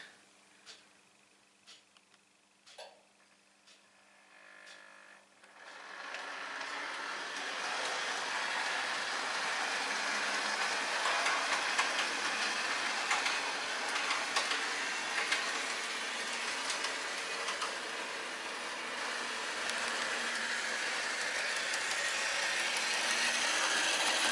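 After a few faint clicks, a small model train starts up and runs continuously, a steady whirring rumble that stays even and fairly close.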